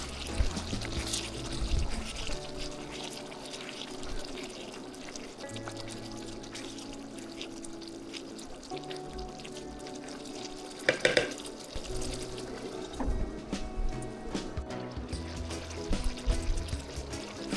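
Tomato gravy for tandoori butter chicken bubbles in a pot, the wet simmer joined by clattering as the lid comes off and the gravy is stirred.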